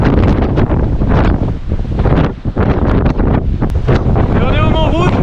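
Strong wind on Mont Rouge during a trail race roars and buffets the microphone in loud, continuous gusts, with a brief lull midway and a faint voice beneath the noise.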